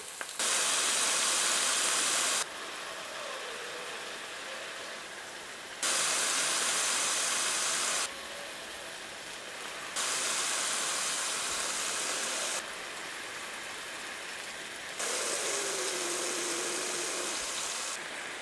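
Lion's mane mushroom roasts in a hot pan, a broad hissing sizzle that swells louder and drops back in alternating stretches, heard alone without any voices.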